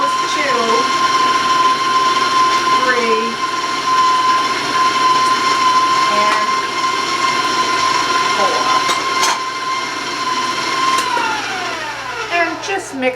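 An electric mixer whirs steadily as it beats eggs into chocolate cake batter, a loud continuous motor drone with a steady whine that shifts pitch now and then, under someone talking.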